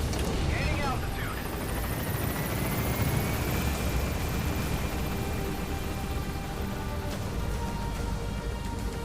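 A helicopter climbs in the video game Metal Gear Solid V, its rotor roar loud and constant throughout, with a rising engine whine and a brief game voice near the start.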